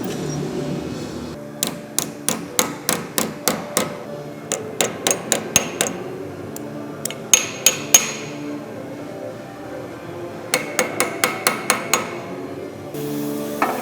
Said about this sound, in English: I'll have to do a little bit of hammer work in the corners to get those corners to look right